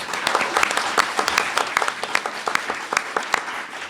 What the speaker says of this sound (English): Please, a round of applause for Carl Williamson